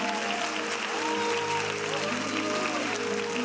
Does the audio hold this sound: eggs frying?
no